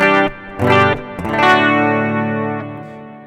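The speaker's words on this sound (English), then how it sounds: "It's just a real plain, clean tone, a little bit of chorus, I believe, and quite a bit of reverb." A clean electric guitar plays a few chords and single notes with a shimmering chorus effect, then a long reverb-soaked chord rings and fades.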